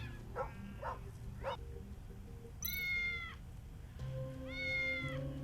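Cats meow in a neon-lit video game, a few short mews early on followed by two longer, louder drawn-out meows against a low hum of background music.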